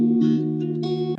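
A guitar loop intro for a bedroom pop track, pitched down 500 cents and time-stretched, gives a short, sustained, warbly chord with a smeared, effect-heavy tone and a brief shift partway through.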